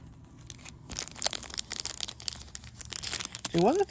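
A Yu-Gi-Oh Ghosts From the Past booster pack being torn open up close, with crinkly foil crackling and ripping in uneven bursts that build to a louder tear at the end.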